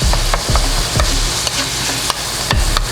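Garlic sizzling and frying in a pan for Filipino spaghetti, a loud, continuous close sizzle with regular scraping stirs of a utensil about every half second, no talking.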